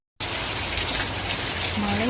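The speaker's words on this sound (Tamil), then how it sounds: "நல்லா பெய்யுது, மழை பெய்யுது" Steady, dense rain pours down on surfaces nearby, a constant broadband hiss with no breaks, while a faint rising tone drifts in near the end.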